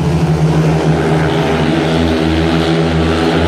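Speedway motorcycles racing flat out around an oval track, a loud continuous engine roar with steady droning harmonics that barely waver, close and filling the whole clip.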